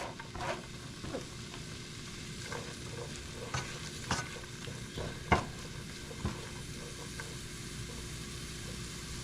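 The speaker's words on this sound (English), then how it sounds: "To the butter. Don't want that in there. We're gonna saute 1 onion." One onion sautéing in butter in a pan, a soft steady sizzle broken by repeated spatula scrapes and knocks spaced a second or so apart, fairly quiet and close, with no voices.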